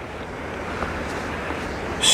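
Small rapids rushing down a rocky stream in Rocky Valley on the Cornish coast near Tintagel: a steady, close wash of churning water with no breaks, swelling slightly louder at the very end.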